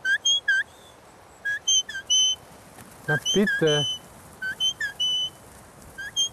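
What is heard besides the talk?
shepherd's whistle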